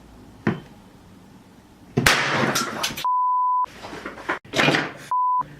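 A steady test tone plays through a speaker driven by an amplifier circuit, cutting cleanly in twice, first for about half a second and then more briefly, between bursts of clattering, rustling handling noise.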